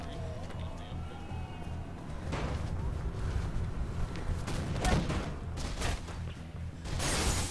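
A burst of gunfire in the first-person parkour game Mirror's Edge, with sharp cracks scattered over a low rumbling game soundtrack, including a louder cluster near the middle and a final sharp burst at the end.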